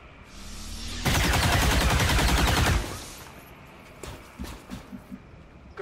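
A burst of rapid automatic gunfire from the video game XCOM 2 rips loud and dense for about two seconds, followed by quieter scattered clicks and a few faint later shots.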